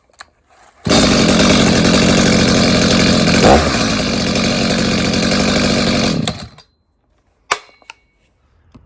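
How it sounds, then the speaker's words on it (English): A warmed-up Stihl chainsaw fires after a cord pull and idles loudly and steadily up close for about five seconds, then cuts out, followed by a couple of sharp handling clicks. "Now the saw is warm, we can simply start it by putting the button from the 0 position to the 1 position"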